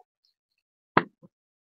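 Eggplant seeds tossed onto chopped onions frying in hot oil land in one soft, close plop, followed by a brief faint patter, with no talking.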